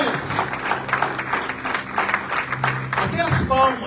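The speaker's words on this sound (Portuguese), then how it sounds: "Aplauda ao Senhor Jesus" A church congregation claps together in praise, a fairly loud mass of hand claps mixed with voices and crowd noise, rising in places and continuing throughout.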